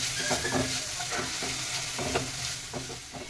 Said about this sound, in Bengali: মশলার সাথে পেঁয়াজ টমেটো ভাজা হয়ে গেছে